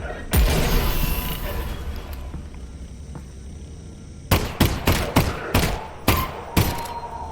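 Grenade blasts in the VR shooter Half-Life: Alyx: after a stretch of low ambient game noise, a rapid run of about seven loud, sharp detonations bursts out in quick succession near the end.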